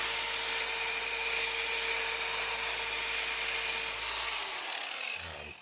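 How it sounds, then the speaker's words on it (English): A power buffer works over a painted guitar body, a steady high whine with a constant tone that holds for several seconds and then winds down at the end, close and alone without voices. "We'll start buffing and hardwaring this guitar."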